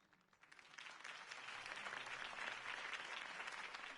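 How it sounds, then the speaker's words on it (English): A large crowd claps and cheers at a campaign speech for Harvey Dent in a Batman video game. The applause swells quickly from quiet to a dense, sustained roar and holds steady. "If only Mr. Wayne, my campaign's largest backer, could have heard that applause"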